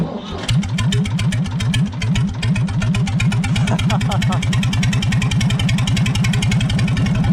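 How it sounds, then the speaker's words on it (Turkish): An unmuffled Ford 3000 tractor engine chugs loudly and close, firing in rapid, even pulses with a harsh, rattling exhaust note. "bir de egzoz susturucusuz sesini dinlemiş olursunuz"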